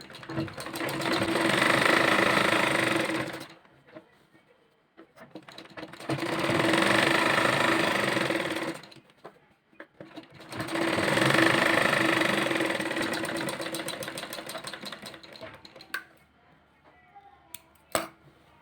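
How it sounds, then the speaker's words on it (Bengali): Sewing machine stitching elastic into a salwar waistband, three sustained runs of rapid motor whirring separated by short pauses, close and steady, ending with a few light clicks. "মাঝখানে সেলাই দেওয়ার পর হাত দিয়ে কিন্তু দুই পাশে সমানভাবে টান দিয়ে ধরতে হবে"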